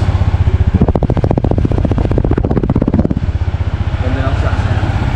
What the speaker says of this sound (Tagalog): I-rev ko ng konti para marinig ninyo.